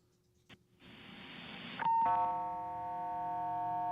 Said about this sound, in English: Our dogs have a doorbell that they push when they want to go outside